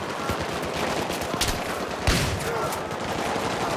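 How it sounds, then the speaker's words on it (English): Shotgun fire in the video game Battlefield 3, a couple of sharp loud blasts standing out over a dense, noisy backdrop of ongoing battle gunfire. "I'm gonna use a shotgun"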